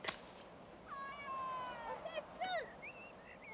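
A cat meows several times in a row, rising and falling wavering cries, faint against a quiet background.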